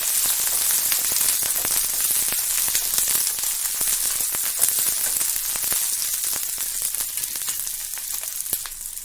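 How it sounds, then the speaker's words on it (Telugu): About a cup of green chillies frying in hot oil, giving a loud, steady, crackling sizzle with dense pops throughout, no voices. "ఇలా ఆయిల్లోకి వేసాక ఒక 2 నిమిషాలు వీటిని ఫ్రై చేసుకుందాం."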